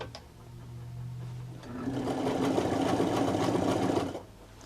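A vintage American Home sewing machine sews a zigzag stitch: after a quiet hum, a fast, even mechanical chatter starts close by, runs steadily for about two and a half seconds, then stops.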